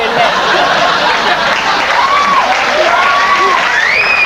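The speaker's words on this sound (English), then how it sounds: "We call that pity applause." Sparse, half-hearted applause from a late-night talk show studio audience, a thin steady patter of clapping with a few chuckles mixed in and faint voices over it.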